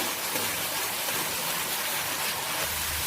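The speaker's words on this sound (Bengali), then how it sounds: "এভাবে কিছুক্ষণ মশলাকে ভাজা ভাজা করে নিয়ে আসবো।" Spices with turmeric and salt fry in a pan, giving a steady, even sizzle that stays loud and unbroken throughout, with no talking.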